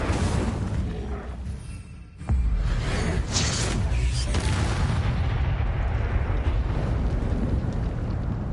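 The Incendio fire spell is cast in Hogwarts Legacy, a sudden roaring burst of flame that settles into a loud, continuous crackling rumble.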